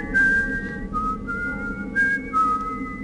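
A guard whistles a wavering tune in Thief: The Dark Project, clear and close, in short melodic phrases with brief pauses between them.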